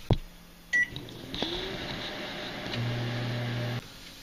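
Microwave oven heating a bar of soap, giving a steady low hum after a click and a short beep, faint and close with no talking.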